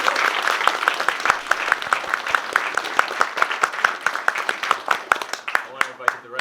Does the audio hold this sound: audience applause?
yes